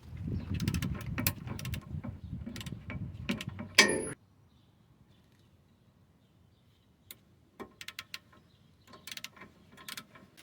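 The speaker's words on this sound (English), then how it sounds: "This is a big ratchet." A large ratchet works on a stuck 22mm bolt on a 1996–2004 Nissan Pathfinder during a brake and wheel bearing job, a dense run of clicks and grinding that stops abruptly, followed by scattered sharp metallic taps and clinks in near silence.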